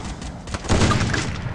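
Gunfire in the Free Fire battle royale game, a short burst of loud, close shots with booming impacts, dense and sharp.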